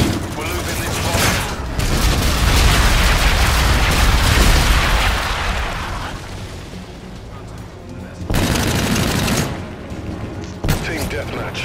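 Enemy bombardment in Call of Duty Infinite Warfare team deathmatch: loud overlapping explosions and rapid gunfire build into a dense barrage, then ease off with sporadic later booms and bursts.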